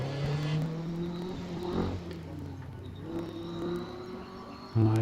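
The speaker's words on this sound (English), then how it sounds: "I hear the scream of a Bristol engine, which is undoubtedly what's in the Frazer Nash Le Mans" A Bristol-engined Frazer Nash Le Mans at a vintage sports car hillclimb at Wiscombe Park, its engine screaming at high revs, rising and falling as it climbs, moderately distant.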